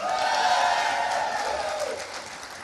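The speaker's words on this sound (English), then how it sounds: "Every time that gets the biggest applause." An audience at the Texas Tribune-style closing keynote session with Joe Manchin breaks into applause, a dense, steady wash of clapping and crowd noise that gradually tapers off over a few seconds.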